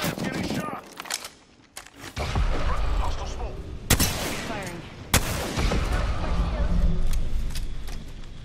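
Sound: gunfire in the video game Apex Legends

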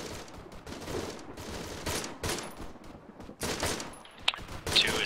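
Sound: gunfire in the video game Arma 3

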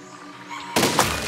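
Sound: cannon shot in the video game Besiege

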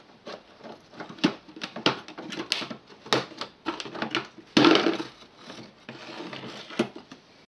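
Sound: cabin pollen filter being pulled out of VW Golf

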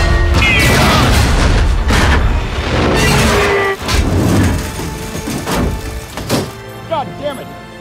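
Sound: tank cannon firing in a film battle scene

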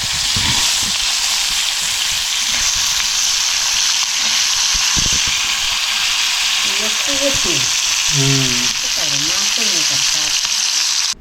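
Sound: fish frying in a pan

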